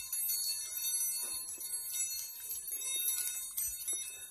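Chrome-plated chiming Baoding balls rolling in the hand, giving faint, high, shimmering bell-like rings that keep overlapping with soft clicks, quiet and alone.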